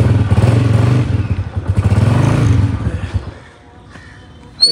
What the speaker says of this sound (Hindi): एक तो भाई मोटरसाइकिल हो जाता है फुल ठंडा, उसके बाद इसको आधा घंटा जलाना पड़ता है पेट्रोल